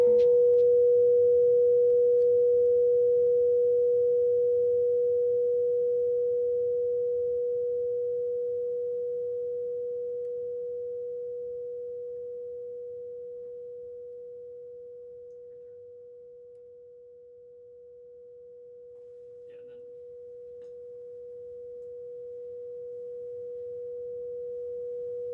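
A steady sine tone plays from two loudspeakers, one fixed and one sliding along a track. The single pure pitch holds throughout, and its loudness slowly dips and swells as the moving speaker shifts the phase.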